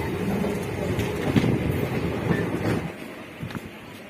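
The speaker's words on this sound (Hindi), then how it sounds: "हमारी ट्रेन चल पड़ी है," A MEMU passenger train running from Narela toward Old Delhi gives a steady rumbling drone from inside the coach, with a few soft wheel clacks, easing off toward the end.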